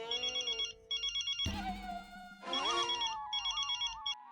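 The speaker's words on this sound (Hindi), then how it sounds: "तारक, किसका फोन था" A mobile phone rings with a repeating electronic ringtone in short, even bursts, loud and close, interrupted midway by louder clattering and tonal sounds before the ringing resumes.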